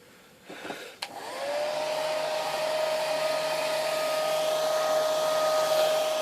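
A hair dryer switches on after a couple of brief knocks and runs steadily at close range, a constant airy whir with a sustained whine, with no talking over it.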